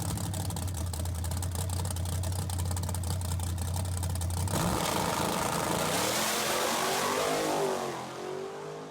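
Race cars at Middle Georgia Motorsports Park, a steady droning engine that gives way to a loud revving acceleration, then a rising, fading roar as the car pulls away.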